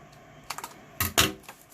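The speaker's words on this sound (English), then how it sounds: "I'm going to cut a piece off." Scissors snip through paper for a junk journal with a few quiet clicks and then two sharper cuts close by, against a faint background hiss.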